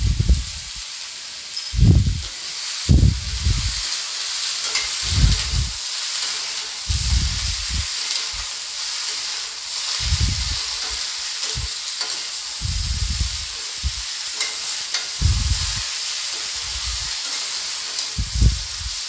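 Vegetables for a beetroot, carrot and tomato sabzi fry in a pan with turmeric powder, with repeated close stirring scrapes in short bursts over a steady sizzle.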